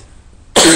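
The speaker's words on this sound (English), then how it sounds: "I don't know why I'm coughing." A single sharp, loud cough bursts out close by after a short stretch of near silence, ending abruptly.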